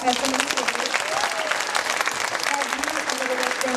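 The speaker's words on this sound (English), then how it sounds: "Give them a round of applause." Applause from an elementary school morning assembly audience, a dense steady clapping that fills the room, with voices faintly mixed in beneath it.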